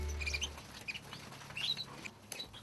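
Pet canaries chirp in short, high bright bursts and trills, scattered and fairly faint against a low background hum, with no talking.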